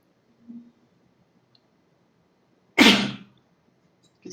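A single sharp sneeze bursts out close by in a quiet room, preceded by a faint breath or murmur and followed by a quick fade.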